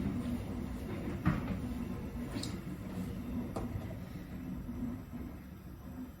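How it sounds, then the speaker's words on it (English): A train passes at a distance as a steady low rumble, with a couple of sharp metallic clanks rising above it. "So many trains."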